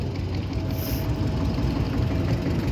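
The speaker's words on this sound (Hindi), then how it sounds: "देखो ये नया दूसरा ट्रैक्टर है हमारा," A low, steady Mahindra 265 tractor engine idles close by, a continuous rumble with no pauses; a brief faint high whine appears near the start.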